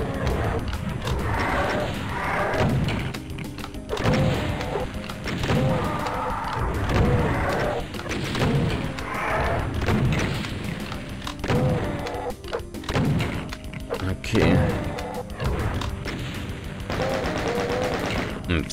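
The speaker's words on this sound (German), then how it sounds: "Viel Muni rausgeballert." Gunfire rings out in the video game Doom with dense, loud bursts of shots and booming impacts that repeat in rapid volleys for the whole stretch, with little letup.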